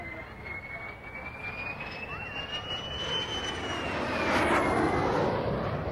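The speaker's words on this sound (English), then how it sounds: "Farnborough Air Show of 1952 was packed to watch Derry fly supersonically in a new de Havilland fighter, the DH-110." A de Havilland DH-110 jet fighter passes overhead at the 1952 Farnborough Air Show. Its steady roar swells as it approaches, with a rising whine overhead that then fades.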